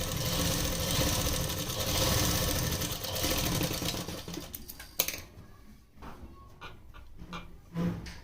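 A sewing machine runs a straight stitch to attach a pocket on a ladies' trouser, humming loud and steady at first, then stopping and giving way to a few light clicks and handling noises.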